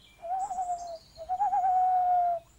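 An owl hoots in a classic children's TV series, giving two sustained, tonal calls close and clear against a quiet background.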